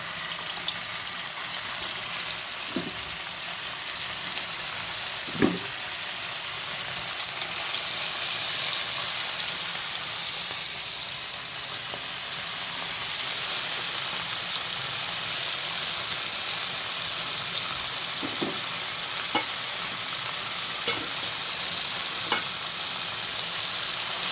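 Hot oil sizzles and fries steadily for a fish curry with potato and vegetable stems, a constant close crackling hiss broken by a few faint utensil clicks throughout.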